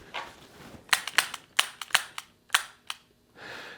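Revolver shots ring out at targets in a quick, irregular string of about nine sharp cracks, some in close pairs, followed by a soft rushing tail, heard close with no talk.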